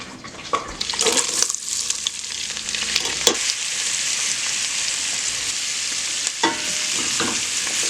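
Onions cooking in butter in a pot, with a steady close sizzle and occasional sharp spoon scrapes and knocks against the pot, loud and continuous, no voices.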